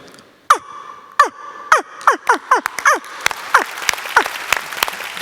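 A voice imitates a heron's call with a series of sharp, descending croaks, slowing then quickening into rapid clicks, loud and close.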